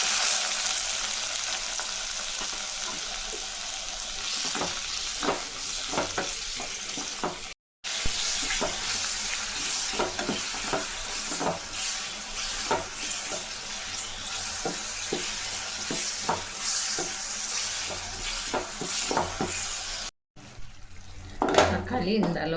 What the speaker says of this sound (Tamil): தக்காளி இந்த அளவுக்கு வதங்கினா போதுங்க